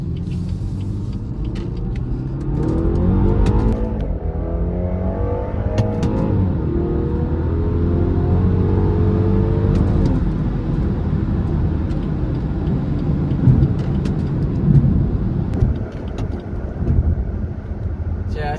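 A BMW B48 engine with a JB4 tune accelerates from a 20 mph roll, a deep, steady rumble heard from inside the car with the pitch climbing through the gears over about eighteen seconds.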